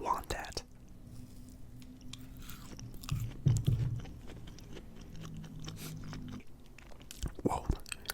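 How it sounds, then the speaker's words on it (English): Close, soft bites and chewing of a brownie covered in powdered sugar, with quiet crunches and mouth sounds between faint whispering. "I swear this is a brownie, but it is just absolutely covered in powdered sugar"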